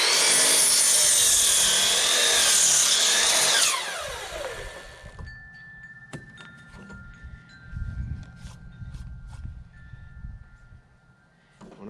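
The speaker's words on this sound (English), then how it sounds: "I'm going to cut all the blocks first and do the chamfer last on all of them" Wooden blocks being sawn with a power saw: a loud, dense, rasping cut for several seconds, then the blade spins down with a falling whine, followed by quieter knocks and handling of the wood.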